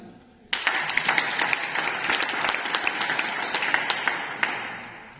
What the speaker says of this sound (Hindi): जो कमाना चाहते हो अपने लिए ताली बजाओ